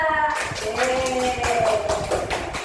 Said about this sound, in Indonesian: Tepuk tangan untuk Atta dan Asa.